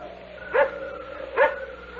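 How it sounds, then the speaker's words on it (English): A dog in a radio drama sound effect barks twice, evenly spaced, each bark moderately loud over a steady low background hum. "That barking dog."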